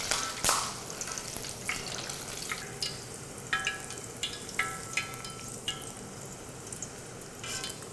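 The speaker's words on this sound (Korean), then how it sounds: "꽈리고추도 같이 튀겨주도록 하겠습니다" Shishito peppers deep-fry in hot oil in a Japanese kitchen, a steady close sizzle dotted with sharp crackling pops and spatters from their moisture.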